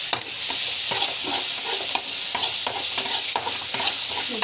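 Onion, garlic and tomato masala sautéing in a pan, giving off a dense, loud sizzle broken by a quick series of stirring scrapes, no talk.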